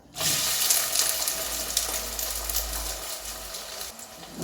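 Onions frying in oil in a pan, a steady loud hiss and sizzle that runs continuously throughout without talk.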